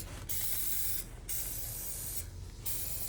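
Something is sprayed down with a spray nozzle in three long, loud, close bursts of steady hiss, each separated by a brief pause.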